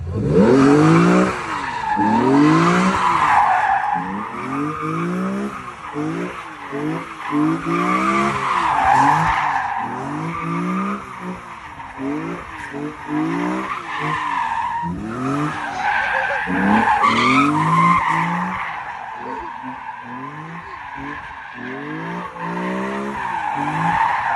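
A BMW E46 M3 with a CSL intake doing a burnout, its tires squealing in long repeated shrieks while the engine revs rise and fall in a steady rhythm, loud and close, with no talking.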